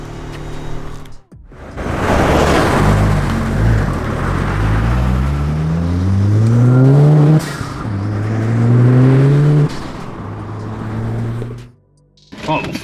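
An engine-swapped 310 horsepower VW Caddy van with an airlift setup accelerates hard from rest, the engine rising through the gears with a gear change and loud revs before easing off, with talk faintly at moments.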